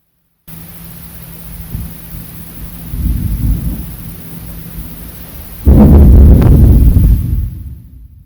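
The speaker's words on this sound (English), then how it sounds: "I think there's thunderstorms outside." Thunder from an outdoor storm rolls in low and heavy, first a moderate rumble, then a louder, closer crack and boom that fades, over a steady hiss of rain.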